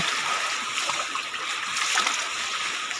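Floodwater in Barangay San Pedro, Duero, Bohol, flowing hard and splashing, a dense continuous rushing wash with occasional sloshing bursts, close and fairly loud.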